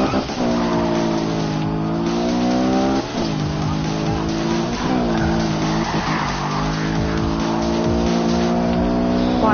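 Car drifting in Need for Speed Rivals on PS4, with sustained tire squeals sliding in pitch through repeated long skids over a loud, steady engine drone, with brief voice murmurs underneath.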